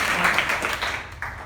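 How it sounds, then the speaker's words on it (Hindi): Schoolchildren at a composite school in Azamgarh clap together in a short classroom burst, loud at first and then thinning out before a brief final flurry. "ताली बजाओ"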